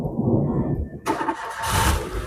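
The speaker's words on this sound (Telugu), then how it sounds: "సింగిల్ సెల్ఫ్లో జస్ట్ హాఫ్ రౌండ్కి స్టార్ట్ అయింది సార్." A 2017 Maruti Wagon R starts on a single crank: a short starter churn, then the engine catches and settles into a steady, close idle, with no talking over it.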